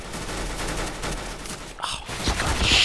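Rapid gunfire bursts in the video game Counter-Strike: Global Offensive, loud repeated shots filling the clip with a brief gap in the middle.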